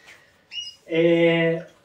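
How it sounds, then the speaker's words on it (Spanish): Timbrado canaries sing in an aviary: a brief chirp, then a sustained, loud rolling trill with rich harmonics heard up close, with no talk over it. "os voy a dejar escuchando un poquito los pájaros"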